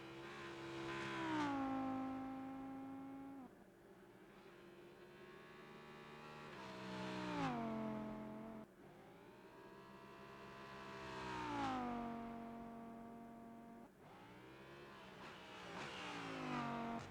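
A race car in the Rennsport sim pulls out of the pit lane at the Nordschleife, its engine revving up and easing off in repeated loud, rising sweeps through the gears. No one speaks.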